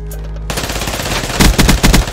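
Rapid automatic fire from the HLX-4 weapon in Call of Duty, with a loud close burst starting abruptly after a short quiet moment and then punchy repeated shots toward the end.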